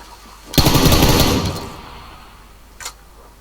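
A rapid burst of automatic gunfire in PUBG Lite on snowy mountains lasts about a second and tails off, followed by a single sharp shot a moment later, loud and close.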